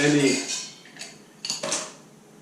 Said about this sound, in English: So we're gonna add ice.